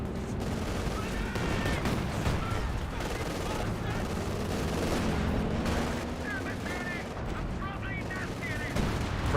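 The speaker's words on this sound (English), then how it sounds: "Here comes the Katusha barrage." A Katyusha rocket barrage in Company of Heroes 2 rains down amid battlefield gunfire, with a continuous dense clatter of shots and impacts under a commentator's voice.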